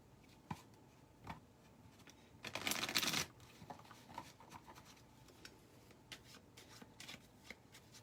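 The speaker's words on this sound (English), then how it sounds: "I'm going to give it a little shuffle." A deck of cards is shuffled during a live jewelry show. A short burst of riffling lasts about a second and is set among scattered soft taps and handling noises in a quiet room.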